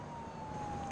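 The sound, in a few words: siren in BeamNG Drive video game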